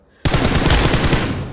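A Vector submachine gun fires in PUBG Mobile, bursting abruptly into a loud, rapid, unbroken stream of shots that rattles on for over a second.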